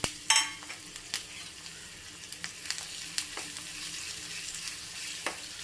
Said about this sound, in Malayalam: ഒന്ന് എണ്ണയിൽ കിടന്ന് ഒന്ന് മൂത്ത് വരട്ടെ.